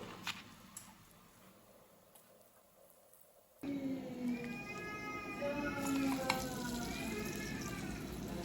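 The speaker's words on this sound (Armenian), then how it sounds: "Ու խառնում ենք ու սկսում ենք տապակել։" Eggs fry in a pan with a quiet sizzle that grows louder partway through, joined by faint high-pitched chirps or squeaks in a home kitchen.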